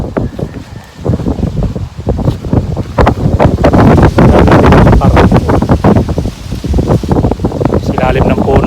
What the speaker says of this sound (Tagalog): Medyo mahangin dito sa pinagpaparkingan ko.